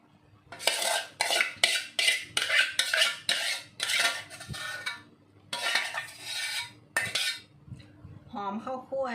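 Thai spicy soup being served out: dishes and cutlery clatter in repeated quick scrapes and clinks as it is ladled into plates and bowls, close and fairly loud, with a brief voice near the end.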